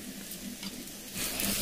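Stuffed ridge gourds laid one by one into hot oil with lightly browned onions give a steady, close hiss of sizzling that grows a little louder toward the end, with no talking.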